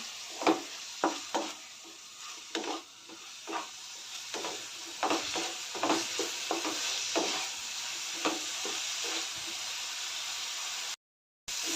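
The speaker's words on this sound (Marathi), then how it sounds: "कांदा टोमॅटो पॅनमध्ये घातलेला आहे लसूण पण घातलेला आहे" Onion, tomato, ginger and garlic fry in a pan for a kaju masala curry, a spatula scraping through them in repeated rhythmic strokes over a continuous sizzle, close and alone without speech; the sound drops out briefly near the end.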